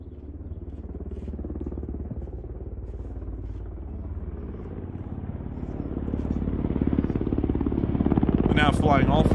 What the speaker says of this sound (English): It's a Ka-52, pretty standard helicopter for the Russians.